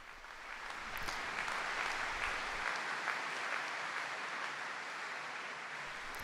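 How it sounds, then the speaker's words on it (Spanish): Crowd of faithful applauding the Pope after his catechesis at the General Audience, a broad, distant-sounding ovation that rises in the first second and continues steadily. "El aplauso de los fieles que agradecen al Papa su catequesis"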